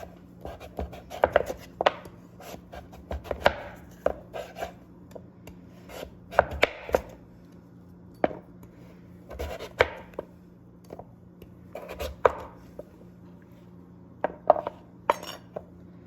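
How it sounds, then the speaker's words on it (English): A knife cuts through peeled butternut squash on a board in a series of irregular, distinct chopping thuds and scrapes, close and fairly quiet, with pauses between strokes. "I've peeled my butternut squash, now I'm gonna cut it"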